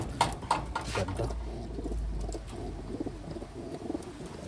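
Taiwan pigeons give low, soft cooing in a loft, a murmuring coo rising and fading with faint background bird noise and scattered small clicks.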